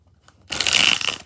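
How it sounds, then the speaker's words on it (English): Tarot cards being shuffled in one quick burst of papery riffling and crushing noise that starts abruptly after a short quiet moment, close and fairly loud, with no talking. "1 more shuffle."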